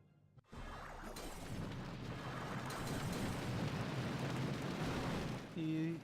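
Earthquake spells cast in Clash of Clans, a sudden onset of sustained rumbling, crackling noise lasting several seconds, loud and dense, ending with a brief tonal game chime.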